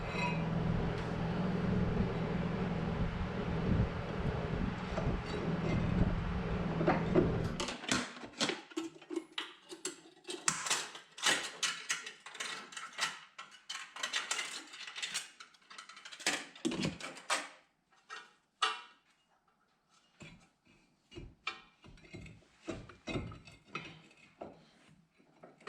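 A brake rotor goes onto the front hub of a 2007-17 Jeep Compass during front suspension work, giving sharp close metallic clinks, clunks and scrapes in irregular bursts after an opening stretch of steady background hum.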